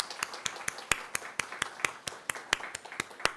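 A congregation at a Korean church service claps in welcome, a few distinct hand claps in a steady, evenly spaced rhythm, fairly quiet and close, with no voices over them.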